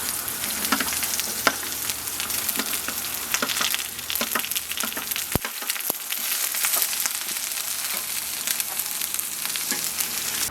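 Vegetables hit hot melted butter in a pan for a Philly cheesesteak, setting off a loud, steady sizzle and crackle that runs the whole time, with a few sharp pops and stirring scrapes and no talking.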